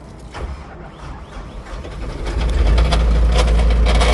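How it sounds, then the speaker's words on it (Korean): A Kubota 1350 tractor engine with faulty transmission gears grinding, starting with uneven rattling and clatter, then settling into a loud, steady low rumble with rough, gritty mechanical noise layered on top. "이렇게 시동을 걸면 미션에서 이렇게 기어가 지금 어긋나는 소리가 이렇게 나고 있습니다"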